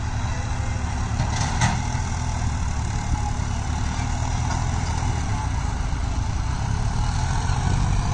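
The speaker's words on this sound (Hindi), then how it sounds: "दो न्यू हॉलैंड ट्रैक्टर और एक जॉन डियर।" New Holland 3630 and John Deere 5050D tractors digging a pond, a steady loud diesel engine drone with a low rumble that holds continuously and close, with no voices.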